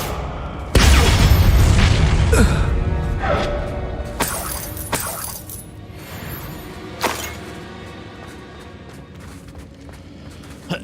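Spell explosions in the Hogwarts Legacy video game: a loud booming blast with shattering debris, then a few sharper crashes and pops that fade into a rumbling tail.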